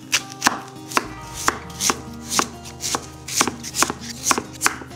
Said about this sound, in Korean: 무 한 토막을 2cm 간격으로 썰어서 준비해 주세요